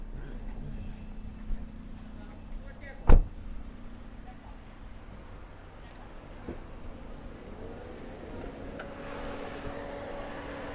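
A 2019 Toyota Yaris 1.2 petrol four-cylinder engine idles under the open bonnet, a low, even hum heard close up, with one sharp knock partway through.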